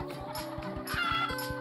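Cartoon chickens in the mobile game Egg, Inc cluck in quick, rhythmic bursts, several birds overlapping in a steady pulsing pattern over a bright musical game backdrop.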